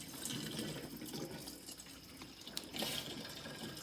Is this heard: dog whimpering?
no